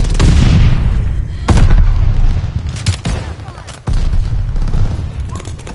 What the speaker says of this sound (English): Glide bomb ready for target!